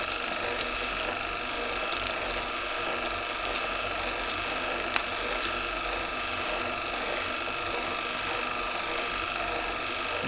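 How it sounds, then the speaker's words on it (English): A wire-stripping machine runs steadily while cutting through insulated copper wire with an outer copper wrap and layered insulation, giving a continuous mechanical whir with ratcheting, gear-like clicks throughout and no talking. "Need to adjust the machine a little bit. It's not quite cutting it all the way through."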